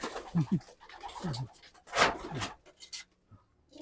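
Pigeons coo at a pigeon fancier's loft in Lucena City: several soft, throaty coos close by, with short pauses and a faint rustle between them.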